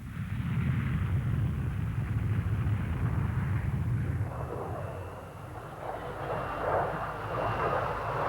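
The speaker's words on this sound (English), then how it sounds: "Sweden's Draken, for instance, now taking off." A Swedish Saab Draken jet fighter takes off at the Farnborough airshow in the 1960s, its engine a steady, heavy roar from a distance that stays loud and then shifts slightly as it climbs away.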